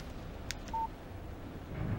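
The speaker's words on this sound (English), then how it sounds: "Text message from Barry." Text message notification tone in the video game Alan Wake: a single short, clean electronic beep, brief and moderately loud, set against a soft game ambience with a faint swish just before it.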